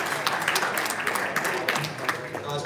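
Crowd applause at a boxing press conference, a dense steady patter of many hands clapping that continues throughout, with some room noise mixed in.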